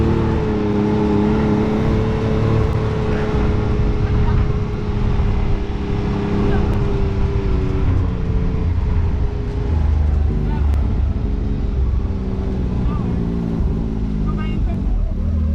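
A 2022 Can-Am Maverick X3 XRC Turbo RR side-by-side revs its turbo engine up and down at close range, a loud, rough drone that rises and falls throughout.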